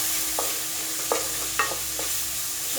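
Onion and chilli masala for veg kurma is sautéed in a pan with a soft, steady sizzle. A spoon scrapes and stirs in a few short, close strokes, and nobody talks.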